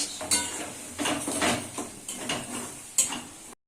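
A spatula scrapes and clatters against a frying pan in repeated strokes while stirring frying Bombay duck, with irregular metallic knocks and a faint sizzle underneath.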